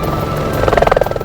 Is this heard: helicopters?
yes